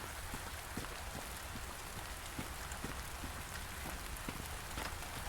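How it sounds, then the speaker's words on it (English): Steady rain patters in a Final Fantasy XIV game scene, a soft, even, continuous wash of drops with faint scattered taps, quiet and without voices. "you can see rain's kind of falling through the texture"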